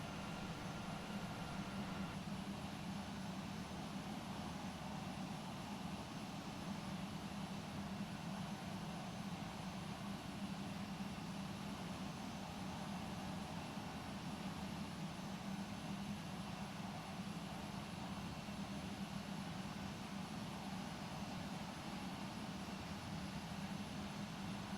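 United Airlines Boeing 767 departing in a VATSIM flight simulator at Frankfurt, a steady, muffled jet-engine roar that stays at an even level throughout, fairly quiet and with no voices.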